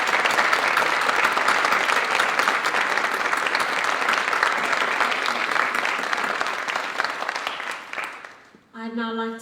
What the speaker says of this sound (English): Please give them one big last round of applause.